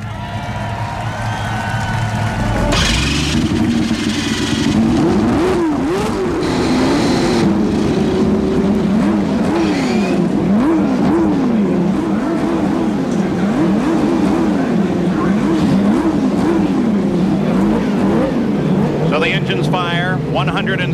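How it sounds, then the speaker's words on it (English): CART race cars with turbocharged 161 cubic inch engines of nearly 800 horsepower start up at the 1993 Marlboro 500 in Michigan. A loud, continuous engine roar swells and undulates with repeated revving, and crowd noise and talk run over it. "start your engines."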